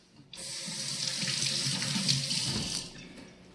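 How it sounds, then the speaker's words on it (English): Water runs steadily from a tap over hands being wetted while making sourdough bread, a close, continuous splashing rush lasting a few seconds with no talk. "So again, I'm going to wet my hands."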